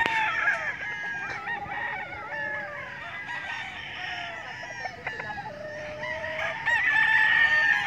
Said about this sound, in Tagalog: Ito yung mga pansabong alaga.